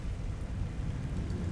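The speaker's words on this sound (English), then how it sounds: "Oh, it's stormy out." A sand storm in ARK: Survival Evolved rolls on as a steady, dense low rumble like rain and distant thunder, continuous and close with no talk.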